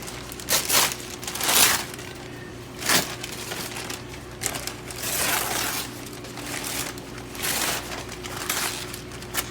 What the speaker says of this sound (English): Just unwrap it.